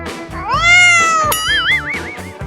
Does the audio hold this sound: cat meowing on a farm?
yes